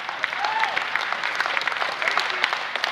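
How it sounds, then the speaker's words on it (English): An audience applauding, dense steady clapping from a crowd, with a faint voice briefly underneath. "Yeah, you can clap, man."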